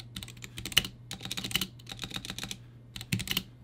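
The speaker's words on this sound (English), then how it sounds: "The freaking stabs on that keyboard rattle so bad they sound like a damn spray paint can" Keys on a Womier Gamakay K87 mechanical keyboard are typed in quick bursts, clicky and close, with the rattling stabilizers adding a tinny clatter on the larger keys and a short pause near the end.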